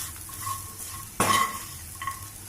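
A spoon stirring ivy gourd fry with chili powder in a pan, soft scraping and faint sizzle with one sharp clatter of utensil against the pan midway and a lighter knock later.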